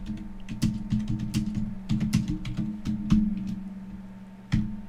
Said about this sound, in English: I wonder whose keyboard is louder, Rob's or mine.